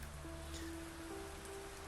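Steady rain falls continuously, a soft even hiss with faint low tones running beneath it, set in a narrated fantasy story scene.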